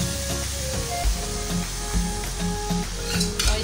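Mutton karahi with yogurt and browned onions sizzling in a pan, a continuous close frying hiss with soft periodic scrapes and knocks from stirring, no voices.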